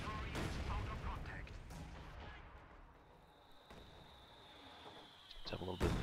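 Patch of minefield detonating in the Company of Heroes 2 strategy game: a sharp explosion and gunfire-like bangs, then a quieter rumbling stretch before another loud burst at the end, fairly faint overall.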